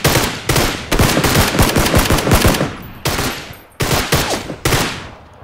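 Rapid automatic gunfire from the video game PUBG, loud and continuous bursts of shots with brief pauses between volleys, heard alone without talk.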